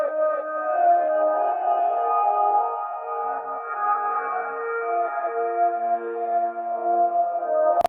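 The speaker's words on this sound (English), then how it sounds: "we ran that into a Guitar Rig preset, which is it has a lot of reverb and delay" Sustained, washy guitar chords run through a Guitar Rig preset drenched in long reverb and echoing delay, tones smearing into one another in a steady ambient wash with no voices.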